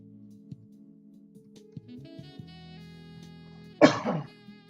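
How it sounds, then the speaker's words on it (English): A single sharp, close cough bursts out near the end after a quiet stretch of faint tonal background sounds. "Had to cough"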